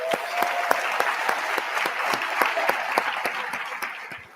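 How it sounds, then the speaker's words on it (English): Sustained round of applause from a conference audience, dense clapping with sharp individual claps standing out, steady and fairly loud for several seconds with little talk. "can we get a round of applause for Jamie?"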